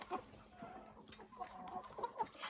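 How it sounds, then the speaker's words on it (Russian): Laying hens on a free-range poultry yard give soft, close clucks, a series of short murmuring calls in an uneven rhythm, fairly quiet and with no voices over them. "вот рядом идет курочка, которая еще тоже несется"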